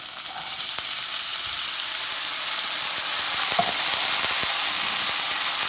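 Black beans fry and sizzle steadily in a pan, a dense, constant hiss that stays loud throughout, with a few faint stirring clicks and no talking.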